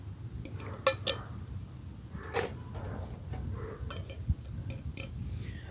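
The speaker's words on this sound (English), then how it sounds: "Mix that up real good." Canned SpaghettiOs and chunky canned meat stirred together in a pot, with a few sharp clinks of a utensil against the metal and soft scraping between them, close and fairly quiet.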